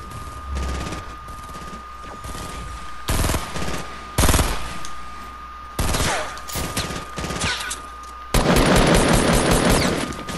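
Sniper rifle shots and heavy gunfire in a video game, loud broadband bursts in irregular volleys with a steady tone underneath, building to a dense sustained burst at the end.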